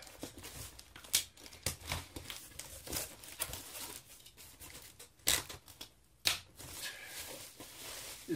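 Nearby crinkling and rustling as packaging for a FriendlyArm NanoPC T2 board is opened, irregular crackles and sharp snaps coming in bursts, quiet and unaccompanied by speech.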